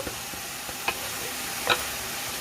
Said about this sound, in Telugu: పాలకూర వేసి పాలకూర మగ్గే వరకు కూడా కొంచెం తిప్పుకుంటూ ఉండాలండి.